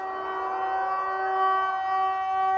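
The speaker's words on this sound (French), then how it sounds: "cette sirène modulée a un sens." A civil defense warning siren sounds near the Pont-de-Claix factory in Isère, a loud, steady, sustained wail held throughout with no talking.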